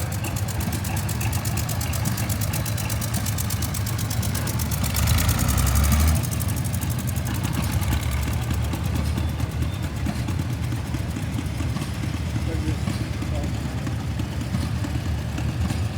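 A 1942 John Deere B tractor running in an equipment parade, its engine chugging steadily and loudly throughout amid open-air crowd ambience, with a brief louder surge partway through.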